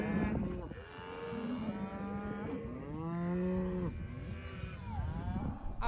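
Cows and young calves moo repeatedly while being moved through gates, with long, close, overlapping calls in varied pitches, including a deep sustained moo in the middle and no talking.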